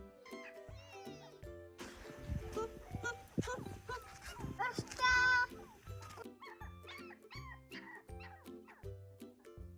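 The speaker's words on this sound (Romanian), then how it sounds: "Este un cățeluș!" Small puppy found out in the cold at night, giving high whimpers and short yips in bursts, close by, with people talking around it.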